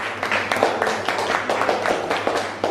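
Applause for a student group finishing a science presentation on the circulatory system in a classroom: a steady wash of many hands clapping, fairly close and even, running throughout without pause.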